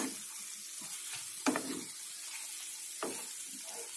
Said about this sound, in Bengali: এবার এটাকে আমি একটুখানি সুন্দর করে নেড়ে নেবো।